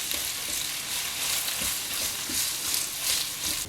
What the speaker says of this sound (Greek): Και αφού κάψει θα σοτάρω μέσα το κρεμμύδι για 5 λεπτά.